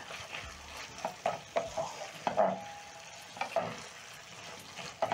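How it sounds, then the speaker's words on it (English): Ribeye beef stir fry with black pepper, soy sauce and oyster sauce sizzling in a pan, with a steady fry hiss broken by repeated close clanks and scrapes of stirring. "After adding the sauce, I'm going to cook for around 1 to 2 minutes."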